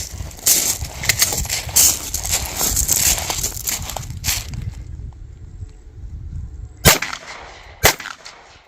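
Canik pistol shots at an outdoor range, a quick burst of sharp, loud reports in the first few seconds, then a lull and two more separate shots near the end.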